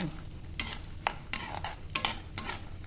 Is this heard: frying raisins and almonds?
yes